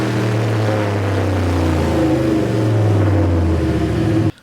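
A turbocharged 331 stroker V8 with a 76 mm turbo and stock block roars steadily at full load on a dyno for about four seconds, then cuts off abruptly.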